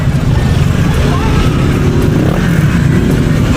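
Honda ADV 160 motor scooter in matte black with its engine running, a loud, steady, close drone that holds constant throughout with no clear revving.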